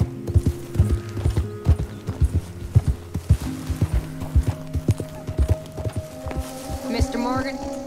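Horse hooves clop in a steady walking rhythm in the video game Red Dead Redemption 2, with low tonal sounds underneath and a short whinny near the end.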